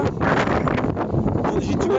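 Strong, gusty wind blows hard outdoors against a handheld phone microphone, producing a loud, continuous rumbling roar that buffets throughout without letup.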